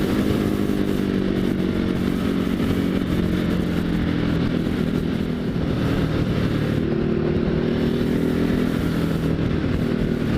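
A 2016 Ducati Hypermotard 939 motorcycle engine roars continuously during a ride, a loud, throaty rumble holding a fairly steady pitch with a brief shift partway through.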